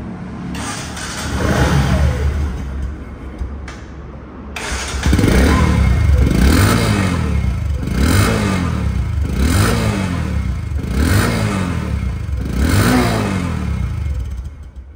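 A second-hand Bajaj Discover 125cc motorcycle engine starts after a brief crank, then runs nearby with a steady putter and a series of rhythmic revs rising and falling every second or so.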